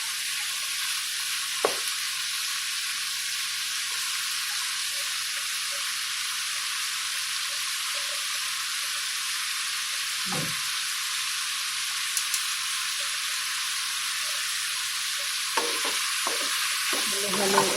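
Meat frying in a pan for an Ilocano dish, stirred until golden brown: a constant bright sizzle fills the scene while a few soft knocks and scrapes of the utensil sound close by, without speech.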